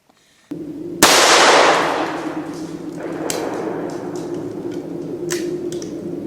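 A single-shot deer hunting rifle fires once in the woods, a sharp loud crack followed by a long fading echo and a rumbling outdoor tail.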